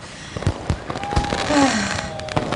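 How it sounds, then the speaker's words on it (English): Fireworks burst outdoors at a celebration, a series of sharp pops and booms spaced irregularly, with faint whistling trails rising between the blasts. "I love the lights, the explosions, sound."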